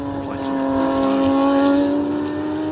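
Sports sedan race cars roar past on a circuit during a close final lap, a loud sustained engine drone that swells and eases, with commentary talk over it.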